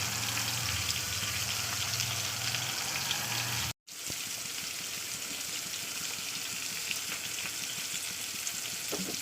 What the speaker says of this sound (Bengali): চলুন এবার কড়াতে তেল দেবো বসিয়ে